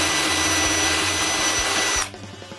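Drill press boring mortises in wood, a loud steady whirring motor hum with drilling noise that cuts off abruptly near the end, leaving a faint wind-down and quiet handling.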